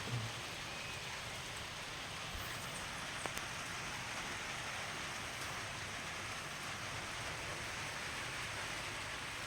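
Steady rain falls in a constant, even hiss, soft and unbroken throughout, with no voices.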